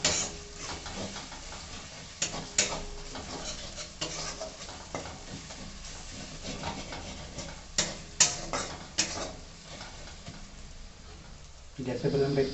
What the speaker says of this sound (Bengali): হলুদটা ভালো করে ভেজে নেবো।